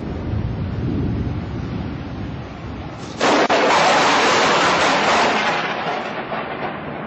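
Thunder from an electrical storm starts as a low rolling rumble, then bursts into a sudden loud crack. A sustained, heavy roar follows and slowly fades.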